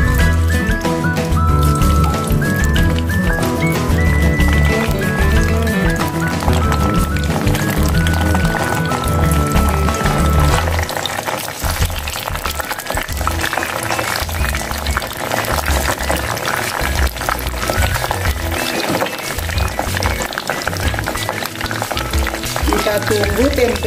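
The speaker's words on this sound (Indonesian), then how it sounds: "Tempenya kita goreng." Tempeh frying in hot oil in a home kitchen, a dense continuous sizzle and crackle running throughout, with music playing loudly over the first half.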